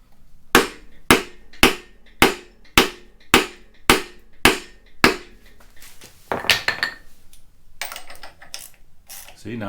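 About ten sharp metallic hammer blows strike the crank hub bolt on an LT1 Gen 2 engine in a steady rhythm, close and loud, followed by softer clattering and tool handling.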